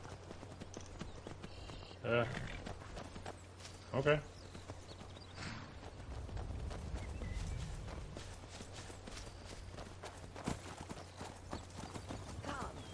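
Horse hooves clip-clop steadily in the Skyrim video game, with a quiet rhythmic plodding under occasional speech, plus a couple of louder thumps along the way.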